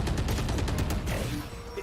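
Rapid gunfire in a Valorant match on the Haven map crackles in a dense volley for about a second, then thins into scattered trailing shots under steady game ambience.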